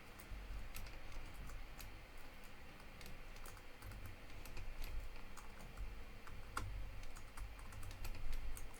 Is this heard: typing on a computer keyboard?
yes